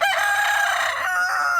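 A rooster in a bachelor flock crows once, close and loud, with a full drawn-out crow that breaks into a shorter final note.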